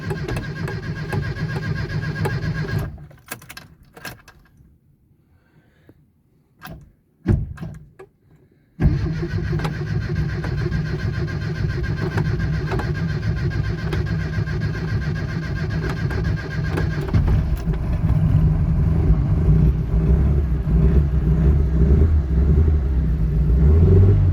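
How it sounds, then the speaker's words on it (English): A classic Mini parked for months turns over with starter cranking, stutters through a few stops and short tries, then catches and settles into a steady idle before revving louder near the end. "I reckon it's going to probably crank over for a little bit and hopefully fire into life"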